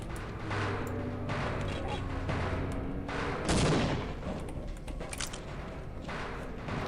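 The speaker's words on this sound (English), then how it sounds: "Let's save and let's throw grenades." Grenades thrown and exploding in the video game Half-Life, several muffled booms and gunfire-like bursts mixed with game effects, fairly loud and continuous.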